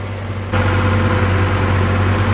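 Tractor engine driving an 8-foot rotavator in medium gear, starting quieter then jumping to a loud, steady low rumble that drones on unbroken.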